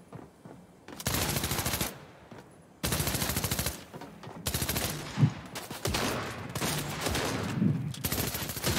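Heavy shotgun blasts in Fortnite, several loud discharges in long, dense stretches of gunfire broken by brief quiet gaps.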